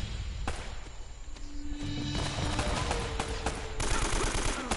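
Gunfire bursts and shots crackle from Uncharted: Drake's Fortune gameplay, a busy run of sharp reports and thuds layered over ongoing game noise at moderate level.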